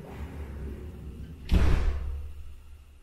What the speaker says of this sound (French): c'est la porte de garage